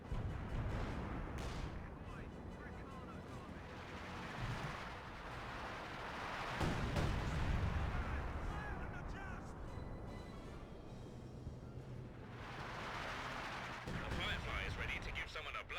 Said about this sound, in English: I hear more Royal Artillery being called on in.